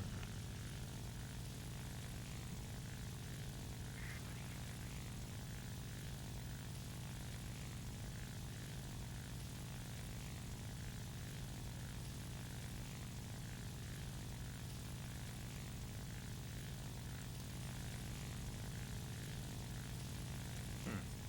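An FW-190 A-4 fighter's piston engine and propeller in War Thunder drone steadily and loudly throughout, a constant low roar with no pauses and no voices.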